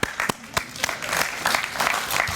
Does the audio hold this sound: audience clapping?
yes